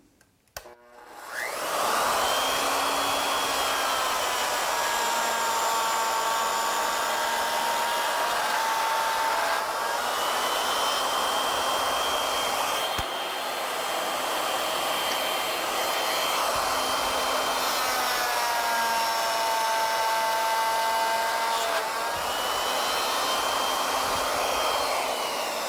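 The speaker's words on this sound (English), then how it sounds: "we've got to plunge the bit down all the way and then just make one cut in and out" A router bit plunges into wood on an ornamental milling machine, making one cut in and out. It gives a loud, steady high whine that holds with slight pitch shifts for about 25 seconds, with no talk.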